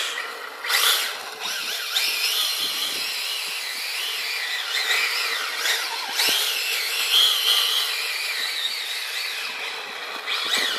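The motor of a 4WD shaft-drive RC drift car on a 3-cell 11.1 V battery runs with a steady, high whine. It rises and falls in pitch as the car revs, fairly loud and continuous, with no voices.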